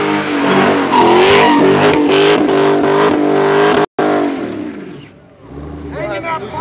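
A car does a burnout at a street takeover, its engine revving loudly in repeated surges with a brief dropout and then a roar that climbs again, while voices sound in the background.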